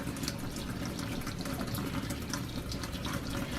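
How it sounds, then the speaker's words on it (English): Cold water runs steadily over homemade butter made from raw milk as it is pressed and rinsed, a continuous close splashing rush with no talk. "So you just kind of press and rinse until you feel like you've gotten as much liquid out as you can"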